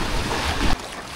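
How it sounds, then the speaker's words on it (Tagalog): Strong waves surge around a small boat near a rocky island shore, a loud, rushing wash of water and wind buffeting the microphone that drops off sharply partway through. "talagang malakas yung alon at nahihirapan tayong tumabi para makatungtong sa kabatuhan"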